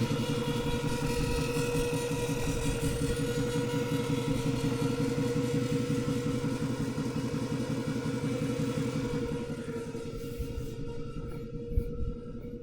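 Electric pump motors of a portable, battery-free solar-powered irrigation system run with a steady, close mechanical hum and rattle, easing slightly lower near the end, with no one talking.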